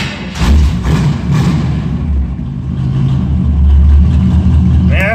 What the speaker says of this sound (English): Man, that fired right up.